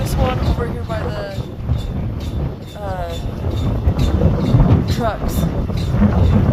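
Strong night wind in Oklahoma buffets the microphone with loud, continuous rumbling gusts, while a person talks over it at times.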